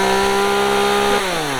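A Chinese-made two-stroke chainsaw runs loud and close, holding a steady buzzing drone that drops in pitch near the end as the throttle eases off.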